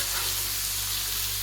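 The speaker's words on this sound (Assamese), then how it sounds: "আৰু ইয়াত তিয়ঁহৰ ভাজি অকণ বনাইছোঁ।" Cucumber, an old overripe one, sizzling steadily as it stir-fries in a pan, a dense continuous hiss with a low hum beneath and no talk.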